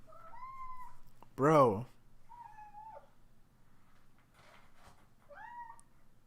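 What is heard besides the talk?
cat meowing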